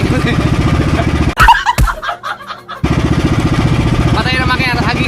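A fishing boat's engine chugs loudly and close with a rapid, pulsing rhythm, drops out briefly while a voice speaks, then resumes running steadily.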